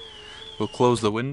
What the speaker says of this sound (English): there's an alarm going off in the background.